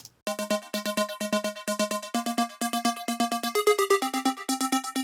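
A thin, slightly high-passed eighth-note delay from an Echo Boy transmitter model repeats a short sequenced keyboard part, giving a steady, bright rhythmic pattern of plucky notes with clear echoes, alone and close.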